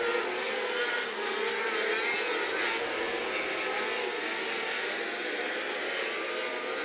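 Dirt track race cars roar around Wayne County Speedway in a dense, continuous wash of engine noise that holds steady and loud throughout, with no clear breaks or single pass-bys.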